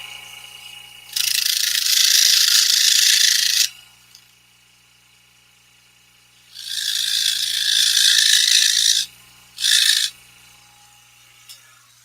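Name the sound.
shaving a cut-out hole to clear fuzz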